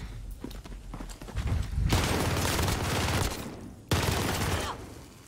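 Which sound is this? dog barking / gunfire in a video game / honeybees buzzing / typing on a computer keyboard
gunfire in a video game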